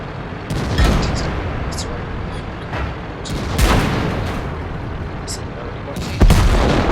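Tank cannon shots in World of Tanks, with an IS-7 and IS-4 in a battle: a few heavy booming reports spread across the stretch, one loud blast near the end, over a constant rumbling engine and battle bed.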